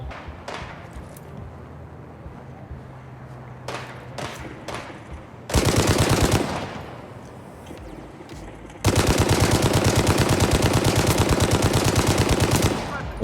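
Gunfire aimed at a helicopter in the game Gangstar Mirage City: scattered single shots at first, then two loud sustained bursts of rapid automatic fire, the second lasting several seconds.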